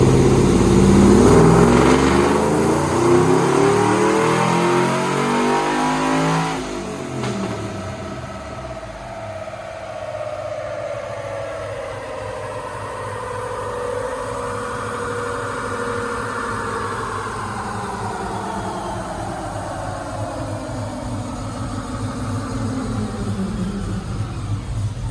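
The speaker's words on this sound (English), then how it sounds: "Right now, we're just breaking the engine in, just letting everything jive and get some data." A truck with a cammed LS engine being broken in revs loudly at first, then settles into a steady, rumbling idle that continues with slight rises in pitch.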